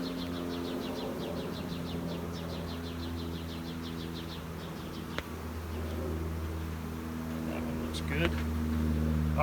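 A dense, steady hum comes from honey bees freshly shaken off frames into a hive box, close and continuous, with faint bird chirps and a few clicks of handling.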